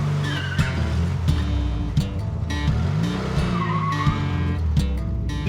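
A Steve McQueen car on an open road is driven hard, its engine roaring close and loud with repeated tire squeals and skidding over the engine.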